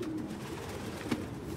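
Pigeons cooing in the video game Detroit: Become Human, a soft, continuous low murmur of several birds nearby with a brief louder coo partway through, no talking.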